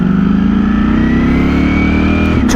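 A Ducati Streetfighter V4S motorcycle engine revs and accelerates close by in city traffic, a loud rising roar with climbing engine pitch over a couple of seconds and a sharp burst at the end.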